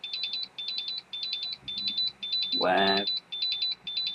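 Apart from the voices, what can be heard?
RC battery charger alarm going off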